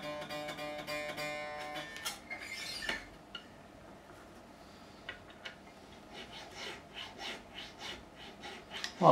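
A metal file rasps through the nut slots of a made-in-Japan Squier Stratocaster in short, close strokes, scratchy rubbing passes that come in irregular bursts with brief pauses between, quiet and with no speech.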